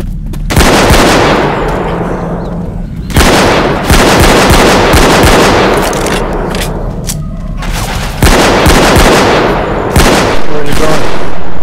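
Loud, dense bursts of automatic gunfire in a video game, several long sustained volleys with short gaps between them, with booming impacts and no clear talking over it.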